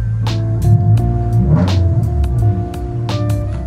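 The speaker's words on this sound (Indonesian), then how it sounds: "karena ini suara knalpotnya cukup mengganggu" A Honda Estilo motorcycle engine idles close by with a steady, rumbling exhaust and some uneven revving pulses, loud and continuous throughout.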